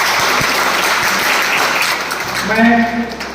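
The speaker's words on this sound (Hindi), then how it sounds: "तो एक बार जोरदार तालियों से इनका स्वागत कीजिए।" Audience at a college event in Raipur gives loud, dense applause to welcome guests, sustained clapping that fills the space, with a voice rising over it toward the end.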